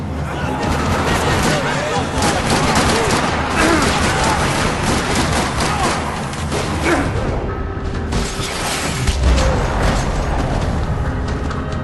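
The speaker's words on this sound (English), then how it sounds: "Another parking lot rattling with gunfire." Dense, continuous gunfire crackles with booming bursts and whooshes, loud and chaotic throughout, like a busy shootout in the video game Max Payne 3.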